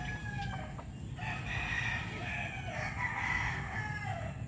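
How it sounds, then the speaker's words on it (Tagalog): Pet chickens and a rooster call in a backyard, several faint crowing and clucking calls over a steady low rumble of background noise. "Yan mga manok ko. Alaga ko yan mga kabasis."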